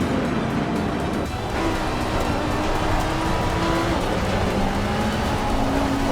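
Engine of a 2019 Lamborghini Huracan GT3 race car lapping Barcelona in Assetto Corsa Competizione, a loud continuous roar with rising tones as it climbs through the gears and a brief dip at a gearchange.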